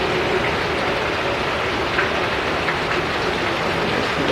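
Heavy rain pours steadily onto a city lane beside a house at night under a streetlight, a dense unbroken hiss that stays loud and even from start to finish, with no voices.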